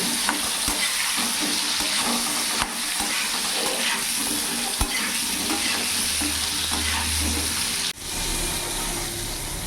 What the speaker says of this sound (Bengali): পটলগুলোকেও আমি ভালো করে ভেজে নেব।